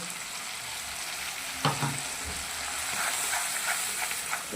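Curry with poppy seed paste and hot water sautéing and being stirred in a pan, a continuous hissing sizzle punctuated by a few scraping stir strokes, close and steady without speech.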